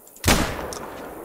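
A single hunting-rifle gunshot in theHunter, a hunting video game set on Silver Ridge Peaks, cracks loudly and abruptly, then rolls away in a long reverberant tail.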